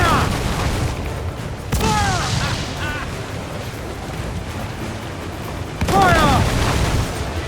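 Heavy cannon booms ring out in an Assassin's Creed IV Black Flag naval battle, with a loud blast near two seconds and another near six, over steady rumble, water and shouted commands.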